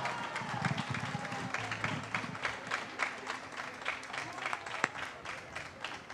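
Concert audience applauding a mariachi band at the Antiguo Hospital Civil Fray Antonio Alcalde, moderate clapping and crowd noise as the last sustained notes of the song fade.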